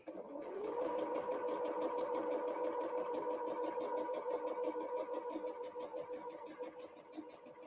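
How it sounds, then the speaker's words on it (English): A sewing machine stitching a straight seam across a quilt block, its motor whirring in a steady, even drone with fast needle ticking, close and alone, easing off at the end. "And just sewing straight along."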